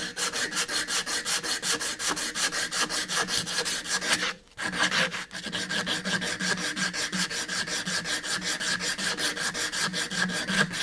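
Hand sanding of a carved wooden spoon, a steady rhythmic rasping stroke repeated many times at close range, with one brief pause partway before the back-and-forth rubbing resumes.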